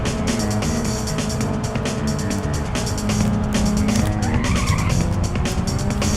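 Race cars in Ridge Racer Type 4 skid and squeal through a drift over a constant roaring engine, tire screech layered with rapid clicking game sounds and no talking.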